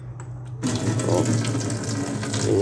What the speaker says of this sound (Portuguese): Tem água em todas as pias